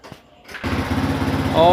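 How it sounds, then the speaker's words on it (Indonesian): A motorcycle engine, freshly fitted with a new ignition coil, runs at a steady rapid idle after a quiet start, with someone talking over it. "setelah kita ganti spool tadi ya, dan motor sudah nyala seperti ini keadaannya."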